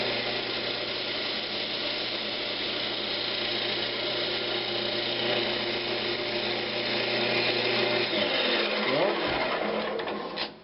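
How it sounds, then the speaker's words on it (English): A woodturning lathe spins a wooden dowel while a tool sizes it down to fit a box lid, making a steady whirring motor drone with a continuous scraping edge that shifts and winds down at the end. "I'm going to try to size this dowel down to fit this lid here"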